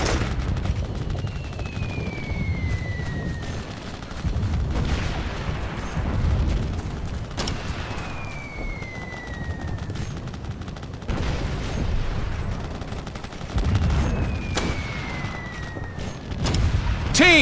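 Gunfire in the video game Operation Flashpoint: Red River: repeated rough bursts of shots and heavy booms rolling in waves every few seconds, with falling whistle-like tones sweeping overhead between the volleys.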